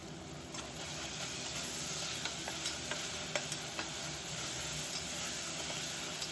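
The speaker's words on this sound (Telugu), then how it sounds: "అలాగే ఒక ఫుల్ స్పూన్ అల్లం వెల్లుల్లిపాయ పేస్ట్ కూడా వేసుకుందాము." Ginger garlic paste stirred into a hot pan for avakaya biryani makes a low, even frying hiss with scattered faint ticks of a spoon, no speech.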